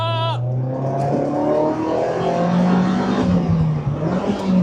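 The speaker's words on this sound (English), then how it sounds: "Bit of wheel spin there." A Lotus Elise S2 pulls away hard on a wet road, engine climbing through revs after a brief whine at the start, close and loud with tire spin noise under rain.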